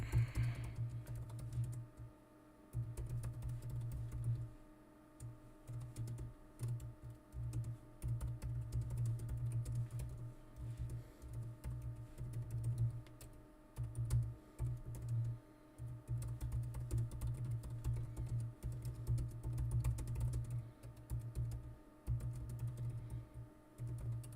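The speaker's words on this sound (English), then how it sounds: "So here, let me type in the chat." Typing on a computer keyboard, fast close key clatter in bursts with brief pauses, alongside a low steady background hum.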